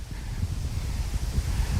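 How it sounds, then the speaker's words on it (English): Steady wind buffeting a microphone outdoors on a windy day in Tokyo, Japan, a continuous low rumble with gusty swells and no voices. "it's so windy"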